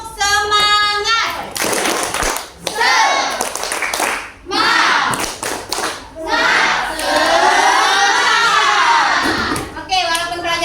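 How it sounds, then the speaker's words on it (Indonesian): A group of schoolchildren do a rhythmic spirit clap in a quick, steady rhythm in class, with shouted chanting between the claps, loud and close. "Sebelum kita tutup dengan doa, kita tepuk semangat."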